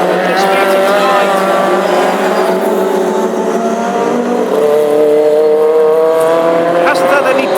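Classic hot rod race cars, including a Ford Anglia, roar around a track at a Birmingham meeting, engines loud and sustained with rising and falling revs and close passes, while a commentator talks over them.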